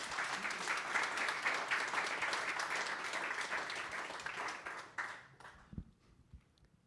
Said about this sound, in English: we should give that a round of applause because it's fantastic